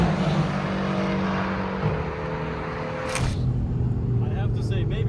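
Mercedes-AMG GT R sports car engine droning steadily while driving, a continuous low rumble with a brief sharp whoosh midway, heard from inside the car with someone talking over it.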